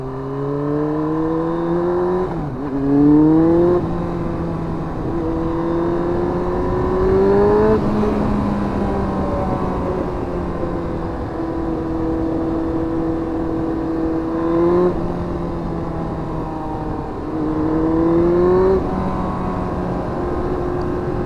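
A Yamaha R1 motorcycle cruising on back roads hums steadily under wind noise, with its engine pitch rising and falling through several rev swells and gear changes over the ride.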